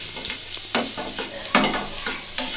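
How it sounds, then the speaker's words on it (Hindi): Mashed potatoes cook in a pan with onion, garlic-ginger paste and cumin, a soft sizzle underneath as a spoon stirs and scrapes in a few distinct strokes. "जो आलू मैश किए हुए थे वो ऐड करके इसमें थोड़ी देर के लिए कुक करती हूँ"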